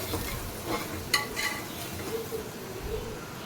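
A spoon works through onions with turmeric and salt in a hot pan for a spicy mutton kheema, brisk scraping and clinking strokes over a low continuous sizzle, close and fairly loud.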